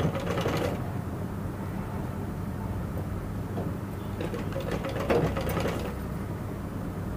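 A sewing machine stitches a blouse at a tailoring class, a steady close mechanical whir with a rapid needle rhythm that runs on without a break and with no talk.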